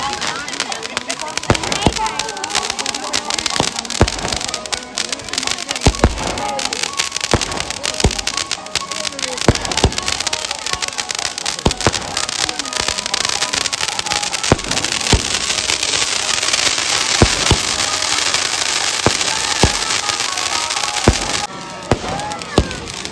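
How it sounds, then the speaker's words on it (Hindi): Firecrackers burst repeatedly around a burning Ravana effigy at a Dussehra celebration, sharp pops and crackles over a dense, continuous hiss of fire and crowd noise. "इनको दिखा देते हैं कि रावण किस तरह से जलाया जाता है"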